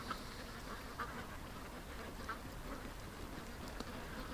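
Ducks quacking in scattered bursts at a homeless duck setup, the calls brief and mid-distance over a steady noisy outdoor background, with no talking.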